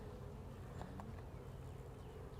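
Honey bees hum in a dense, steady drone from an opened hive during a split and virgin queen search, the buzzing close and continuous.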